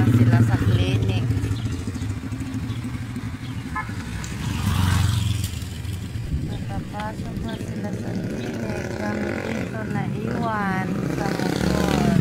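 A motorcycle waits outside a clinic with its engine droning steadily throughout, while people talk over it.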